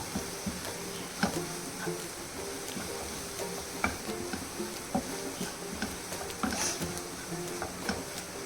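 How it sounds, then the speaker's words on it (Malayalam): Garlic chicken with chili powder is stirred in a sizzling pan, soft scraping and occasional taps of the spoon against the pan over a steady, quiet frying hiss. "പൊടി ചേർത്ത് നല്ലോണം ഇളക്കുക"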